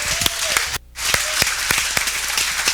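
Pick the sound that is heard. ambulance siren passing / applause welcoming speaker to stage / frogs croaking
applause welcoming speaker to stage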